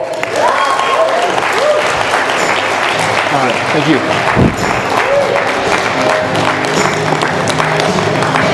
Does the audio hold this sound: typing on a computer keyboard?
no